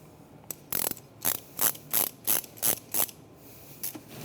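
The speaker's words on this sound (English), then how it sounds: "Now we're going to install our hose clamps." Hose clamps being ratcheted onto a vacuum hose at the turbo wastegate actuator of a 2006 Mitsubishi Evolution IX, a series of about nine short, crisp ratcheting clicks in an even rhythm, close and alone.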